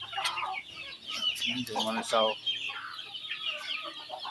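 Chickens clucking while waiting to be fed, a busy overlapping mix of clucks and calls nearby, with a voice speaking among them.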